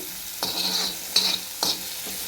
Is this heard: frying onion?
yes